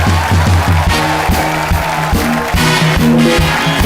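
Studio audience applause on The Kapil Sharma Show, a dense clapping wash partly masked by loud, rhythmic music with heavy beats, sustained for the whole stretch.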